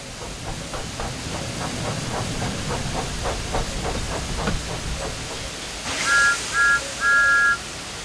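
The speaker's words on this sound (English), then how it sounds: "Thomas likes whistling cheekily at him." A video-game Thomas the Tank Engine puffs out a rapid, steady chuff of steam, then a sharp hiss bursts out and three cheeky whistle toots follow, the last one held longer, loud and close.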